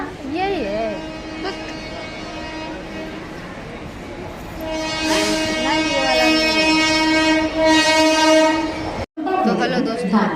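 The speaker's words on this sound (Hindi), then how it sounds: "ट्रेन आ गया क्या? यही है।" A train pulls into a village railway station with rumbling wheels and a loud, repeated horn, sustained blasts rising toward the end while people talk over it nearby.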